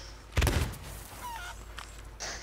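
A chicken in the pirate video game Sea of Thieves lets out a loud squawk, followed by fainter clucking chatter.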